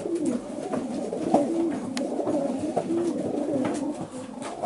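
Several racing pigeons coo softly and repeatedly at close range in a loft in Breaza, Buzău, Romania, low throaty calls overlapping with light shuffling and a few faint clicks.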